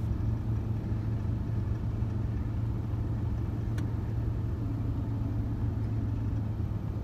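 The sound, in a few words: car driving in reverse up a country road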